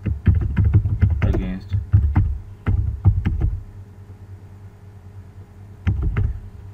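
Keys clatter on a computer keyboard in quick, uneven bursts of typing, close and clear, with a pause in the middle before a final short run of keystrokes.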